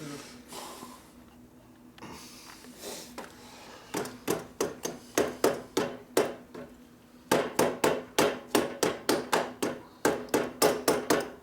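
Repeated sharp metallic hammer blows ring out in quick rhythmic bursts, close and loud, with short pauses between volleys, while repairing a 1964 Harley-Davidson Sportster XL Ironhead chopper.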